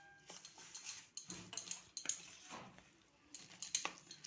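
A spoon scrapes and clinks against a bowl while flattened rice and semolina batter is stirred, a quick irregular series of soft knocks and scrapes close by, fairly quiet.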